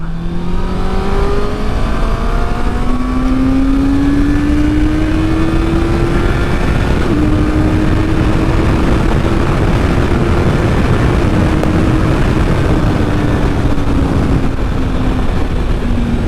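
A 2025 Honda CBR650R inline-four motorcycle engine, a smooth, steady drone that rises gradually in pitch as the bike accelerates, loud and continuous throughout with no talking.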